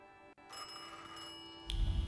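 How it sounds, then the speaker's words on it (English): Telephone ringing in the video game The Thaumaturge, a bright electronic ring with steady tonal lines that persists through the clip, with a low rumble swelling near the end. "Phone call. I wonder if I just ignore it."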